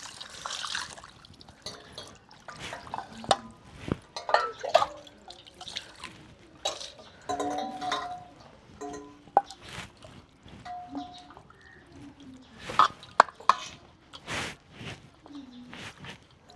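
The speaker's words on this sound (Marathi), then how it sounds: "दोन तीन पाण्याने आपण चांगलं स्वच्छ धुवा" Raw chicken is rinsed clean in two or three changes of water, with scattered splashes, drips and trickles coming close and fairly quiet, separated by brief pauses and occasional clinks of a vessel.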